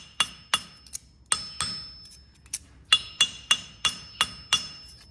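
A hammer strikes heated copper to flatten arrow fletchings, about a dozen sharp metallic blows at an uneven rhythm with short pauses, close and clear with no talking.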